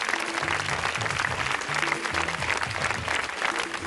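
Studio audience applause on the Tamil game show Home Minister: dense, steady clapping that fills the whole stretch at even loudness, with faint tonal sounds underneath.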